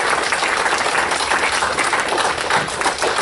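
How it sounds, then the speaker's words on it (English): Audience applause at a debate event, steady continuous clapping from a crowd, fairly loud and sustained throughout with no clear voice over it. "can we have some applause for these guys working tonight?"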